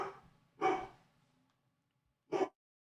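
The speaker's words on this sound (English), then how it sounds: "Fucking dog won't shut up." A dog barks twice indoors, a close sharp bark followed after a pause by a second, fairly quiet overall.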